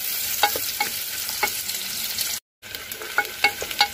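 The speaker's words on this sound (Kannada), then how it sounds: "ಈರುಳ್ಳಿಯನ್ನು ಒಂದು ಸ್ವಲ್ಪ ಕೆಂಪಿಗೆ ಚೆನ್ನಾಗಿ ಮಾಡ್ಕೋಬೇಕು" Onions frying in a pan for methi pulao, with a steady sizzle and repeated scraping clicks of a spoon stirring them, close up, with a short dropout midway.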